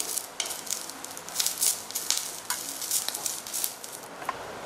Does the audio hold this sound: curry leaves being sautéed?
yes